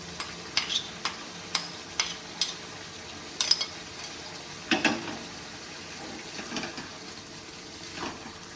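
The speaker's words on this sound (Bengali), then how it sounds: "আর সাথে চিংড়ি মাছটাও দিয়ে দিচ্ছি" Prawns and slit green chillies are stirred in a pan with bottle gourd, with a steady series of sharp spoon scrapes and clinks over a soft frying sizzle, close and moderately loud.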